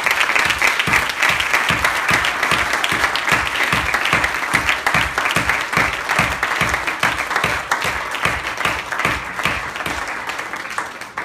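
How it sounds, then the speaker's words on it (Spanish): A church congregation offers loud, sustained applause, with several clappers falling into a strong rhythmic beat under the wash of other hands for about eleven seconds. "Rogamos una ofrenda de palmas al Señor"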